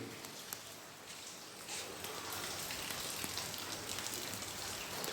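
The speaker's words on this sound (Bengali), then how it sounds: "এখন বৃষ্টি একটু জোরেই পড়ছে" Rain falls steadily outdoors at a street fish-selling spot, a soft, even patter and hiss that thickens after the first couple of seconds, faint and without voices.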